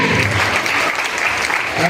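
Audience applause fills a business celebration program in Sitamarhi, a dense, steady clapping that carries through the whole stretch without a break, loud and close.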